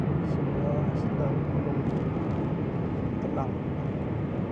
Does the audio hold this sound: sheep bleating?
no